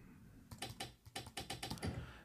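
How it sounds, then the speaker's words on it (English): Rapid keyboard key presses from the Mou markdown editor's typing sound effect on a Mac, a run of quiet, close clicks and taps in uneven rhythm with no talk. "We can have play key press sound."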